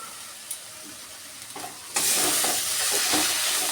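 Jackfruit and potato curry with tomato sauce and sugar is stirred in a pan, starting with quiet scraping and then breaking into a loud, steady sizzle of frying, close up with no talking.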